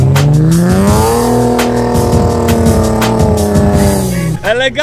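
A BMW engine revs hard and loud at close range during a driving lesson, holding a high strained drone with rising pitch before dropping away near the end, with rough mechanical texture throughout.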